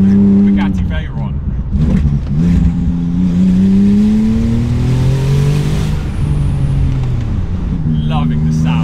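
A 900-horsepower Porsche 911 Turbo with turbo modifications, twin throttle bodies and a custom map revs hard while driving, its loud engine note rising and falling in pitch from inside the car, with people talking over it.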